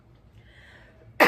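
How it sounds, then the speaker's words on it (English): A single abrupt cough bursts out at the very end after near silence, loud and close. "Here we go again, coughing."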